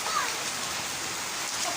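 Steady rain falls in a broad, even hiss that holds at the same level throughout, with a faint voice briefly audible above it.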